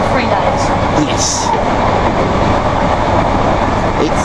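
A Class 313 electric train at Stevenage station fills the scene with a loud, steady rumbling roar, close by and unbroken throughout.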